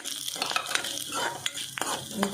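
Cinnamon, cloves and star anise frying on a slow flame for chicken green masala, a light sizzle under clinking, scraping stirs of a utensil against the pan, close and without talk.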